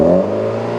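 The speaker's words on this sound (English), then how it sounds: "And can we give it a rev?" A BMW M135i engine holds at a high rev, a loud, steady harmonic drone close to the microphone that eases slightly after a brief peak.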